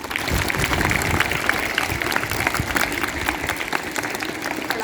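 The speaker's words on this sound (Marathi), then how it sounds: "सगळ्यांनी टाळ्या वाजवा." School students clap together after a yoga exercise on International Yoga Day, a lively crackle of many hands at moderate distance that carries on steadily and fades slightly toward the end.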